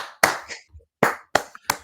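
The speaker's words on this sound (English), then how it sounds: "And we just want to applaud Will." Scattered hand claps during a live sports-talk podcast: a handful of sharp, separate claps with short pauses between them, close and fairly quiet, with no talking.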